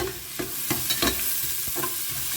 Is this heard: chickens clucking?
no